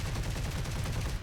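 Rapid burst of 30mm cannon fire from a Bf 109 G-6 fighter in War Thunder, a dense continuous rattle of heavy shots filling the whole moment, loud and close.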